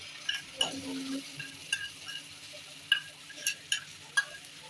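Ground ginger, garlic, cumin and green chili paste frying in oil with whole spices for a beef and chickpea curry, a faint sizzle under light ticking taps and scrapes of a spoon against the pot, close and quiet, no speech.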